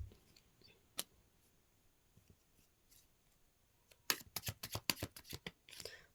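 Tarot cards being drawn and shuffled by hand: a few soft isolated flicks, then a quick run of sharp riffling snaps near the close, faint and near in a quiet room with no voices.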